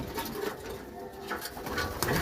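Pigeons coo softly in a loft, with low, rolling coos repeating over a faint background; several birds seem to overlap at close range.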